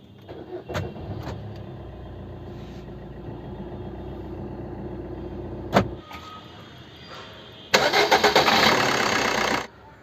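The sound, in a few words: diesel engine starting after filter change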